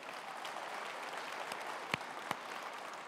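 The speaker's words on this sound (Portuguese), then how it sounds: "Você pode aplaudir a Jesus por isso?" Church congregation applause, a dense steady wash of clapping from a crowd with a couple of sharper claps standing out.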